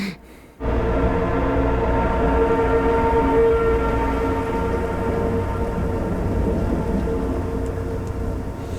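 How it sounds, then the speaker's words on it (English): Heavy rain in a TV drama scene, a dense, loud continuous downpour that starts abruptly and holds steady with a low rumbling undertone, no talk. "it's raining hard like the third Matrix movie"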